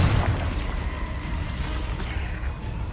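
A Confringo spell explodes in Hogwarts Legacy with a heavy, rumbling boom that fills the clip and slowly fades.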